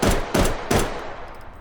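Three loud gunshots from H3VR, a VR shooting game, ring out at an even pace about every third of a second, and each is followed by a short reverberant tail from the game's local reverb, which decays into quiet.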